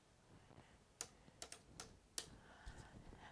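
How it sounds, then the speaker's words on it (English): Scattered keystrokes tap on a computer keyboard, a handful of sharp, uneven clicks spaced out with pauses, quiet and close with no talk over them. "I am not typing well today."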